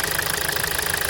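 A Toyota Corolla Verso 2.2 2AD-FTV diesel engine idles close by, with a steady rapid clatter and knocking pulse over a low rumble, with no talking.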